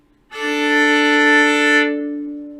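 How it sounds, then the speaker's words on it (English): Two violin strings bowed together in a clean, steady fifth, swelling in and holding smoothly before the upper tones fade and a low note lingers. "A violin is tuned in what we in music call fifths."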